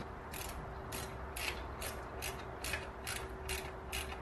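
A washer and bolt being fitted onto a Charger Hellcat part, heard as faint, evenly spaced ratcheting clicks over a steady low background hum, with nobody talking.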